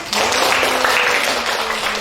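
Steady applause from a room of teachers at a school session in Bali for a colleague, a dense wash of clapping held at even volume for a couple of seconds.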